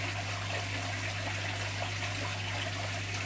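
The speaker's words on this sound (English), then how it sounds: "There's something nice about sticking some fresh water into an aquarium." Fresh water pours into a shrimp aquarium tank as a continuous gushing trickle over a steady low electrical hum, even and moderately quiet throughout.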